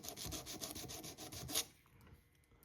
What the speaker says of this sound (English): just take some sandpaper, some 220 is good enough, just enough to take the rust off